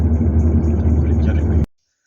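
Car driving along a forest road: a steady, close low rumble of the engine and tyres that cuts off abruptly near the end into silence.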